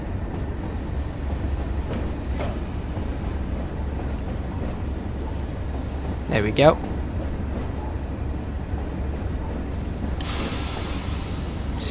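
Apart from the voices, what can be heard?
Class 37 coal train braking to a stop, Train Sim World video game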